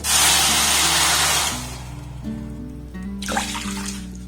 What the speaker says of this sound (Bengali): কড়ার মধ্যে এই বাটির মাপ করে এক বাটি আমি চিনি দিয়ে দিলাম আর দিয়ে দেবো একই বাটির মাপ করে দেড় বাটি জল